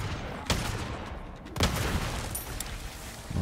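Dynamite explosion in Resident Evil 4 with the Valkyrie mod, a sharp blast followed by a louder booming burst and a rumbling, crackling tail.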